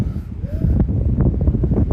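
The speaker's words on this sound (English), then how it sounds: "It's quite windy up here actually." Steady wind buffets and roars across the microphone atop Darwen Tower on Darwen Moor, Lancashire, a loud low rumble with gusty rustling throughout.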